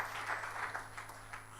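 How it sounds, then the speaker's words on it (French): Faint, diffuse applause from a church congregation, a soft wash of many hands clapping at a distance, brief and steady without talk over it. "Applaudissons le Seigneur Jésus-Christ."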